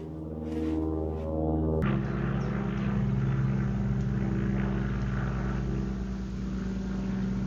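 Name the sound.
airplanes flying overhead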